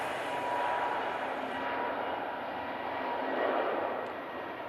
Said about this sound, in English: Next aircraft out, G-Sun L, and the aircraft heading down to Tenerife South.